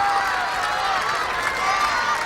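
A crowd at the 2005 World's Strongest Man heats cheers and applauds a struggling competitor, Bourgeois, on his fourth attempt, a dense, steady roar of voices and clapping that holds throughout.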